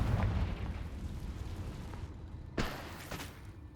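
A Confringo fire spell goes off in Hogwarts Legacy, a rumbling blast followed by a second sharp burst and fading crackle, loud and close with no talking over it.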